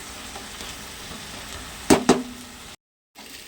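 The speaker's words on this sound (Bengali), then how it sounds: "দেখুন কুমড়োটা ভাজা হচ্ছে" Pumpkin pieces for egg kofta spread around a kadai fry with a low, steady sizzle, broken by two sharp, close clatters of a utensil against the pan and then a brief gap of silence.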